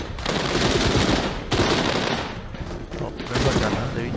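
Dense bursts of rapid gunfire in the zombie video game Walking Dead Saints & Sinners, loud sustained volleys in several waves with brief gaps, with a voice talking underneath.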